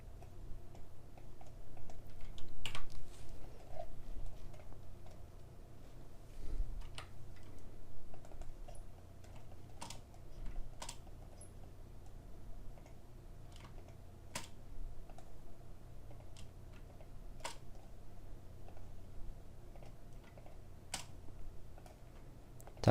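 Computer keyboard typing and clicking during 3D modelling of a faucet with Sub-D tools, a steady run of light, close taps spread through the whole stretch, with occasional sharper isolated clicks and a low hum underneath.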